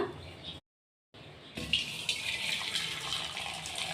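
Cooking water is poured off boiled lentils, a steady splashing stream that cuts out briefly, then returns stronger and hissier, running close and continuous.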